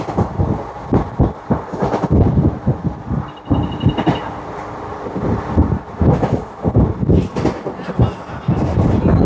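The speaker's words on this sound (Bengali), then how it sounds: "আমাদের ট্রেন শালিমার স্টেশন থেকে তো ছেড়ে দিয়েছে" A passenger train moving at night, heard from inside the carriage as a loud, rumbling roar with irregular rattling thumps and clatters, plus occasional faint high squeals.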